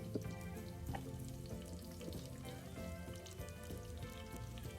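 Onion frying in oil for a wedding-style pulao, a steady dense sizzle with faint crackles and occasional stirring, fairly quiet and continuous with no talking.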